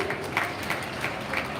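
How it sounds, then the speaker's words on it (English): An audience at a school investiture ceremony at St. Ann's Girls High School applauds the students: a faint, steady wash of clapping throughout, with a few slightly louder swells. "Can we hear a mighty applause for your children,"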